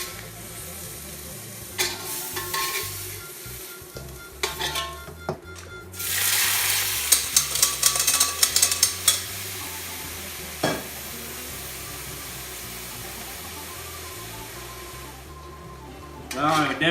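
Pork sizzles and hisses in a wok on an induction cooktop, with bursts of stirring, scraping and louder frying surges in the middle, while someone talks over it.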